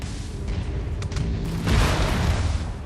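A missile impact bursts into a broad, roaring explosion in MechWarrior 5: Mercenaries, rising halfway through over a steady mechanical rumble and lingering loudly to the end.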